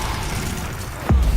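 A Repulso spell cast in the Hogwarts Legacy video game lands as one sudden, loud low burst near the end, rising out of a steady bed of game ambience.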